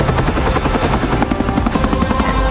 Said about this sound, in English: Get those helicopters away from the ship.